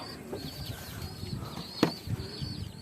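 Pigeons beat their wings in short, soft flapping bursts, with one sharper flutter near the middle. Faint cooing and bird sounds come through in the background outdoors.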